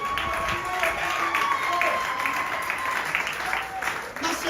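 A church congregation applauds, a steady dense wash of clapping lasting throughout, with voices and singing mixed in.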